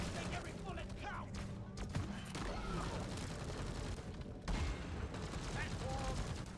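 Rapid gunfire from a sentry turret in the game Deep Rock Galactic, dense bursts of shots with mechanical clanks, a short pause midway, then firing resumes.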